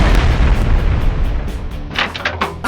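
A blaster firing an explosive ice blast in a LEGO Ninjago animation, a loud continuous booming rumble with dense low-end energy, followed by several sharp bursts toward the end.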